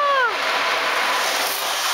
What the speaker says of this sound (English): So for the splash, I can just pop it.